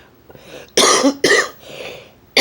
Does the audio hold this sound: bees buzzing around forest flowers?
no